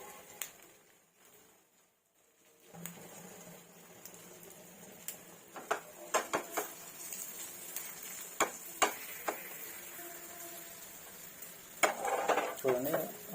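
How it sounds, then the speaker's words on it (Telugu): A half-boiled egg sizzles in a pan with spicy chili powder and salt, a soft frying hiss broken by a scattering of sharp spatula scrapes and clinks against the pan as it is flipped. "చూడండి, హాఫ్ బాయిల్ని తిరిగేస్తున్నా"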